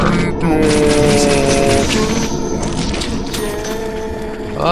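Gunfire in the video game Deadly Premonition: a loud, dense run of rapid shots and cracks over game sound, with a player talking throughout.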